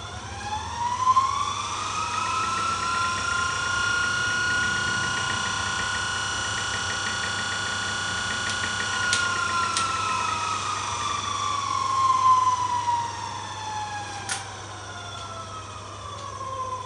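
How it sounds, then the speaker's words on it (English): Antique 1888 electric motor spinning fast on 30 volts, giving a steady high whine that rises in pitch as it speeds up, holds, then slowly falls, heard close over a low constant hum. "Notice the motor runs really fast in 30 volts"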